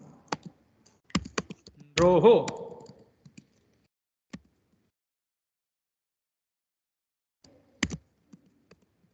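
Short bursts of key clicks on a computer keyboard, sparse and uneven with long quiet gaps, while someone speaks briefly between the typing.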